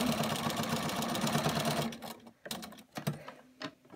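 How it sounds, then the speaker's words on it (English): A sewing machine stitches quilt binding down with a quarter-inch presser foot, a steady motor hum for about two seconds, then short stop-start bursts of stitching. "We're going to sew this down. And I just use my 1/4 inch foot."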